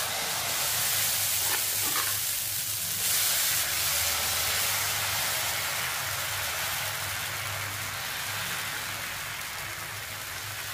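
Dosa batter mixed with pirandai powder sizzles steadily on a lightly oiled hot pan, a continuous close hiss and crackle that runs through the whole stretch without any talking.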